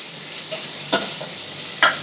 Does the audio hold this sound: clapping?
no